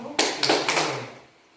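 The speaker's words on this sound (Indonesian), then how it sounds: "Kita tepuk hebat" Rhythmic group clapping in a school classroom, three sharp, loud bursts of hands striking together in quick succession, then a short fade to quiet.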